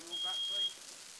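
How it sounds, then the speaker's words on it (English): Smoke alarm sounding during a house fire that has just started, one steady high-pitched electronic tone lasting about half a second, faint under a voice talking. "Already the smoke alarm is sounding, giving early warning and plenty of time to get out."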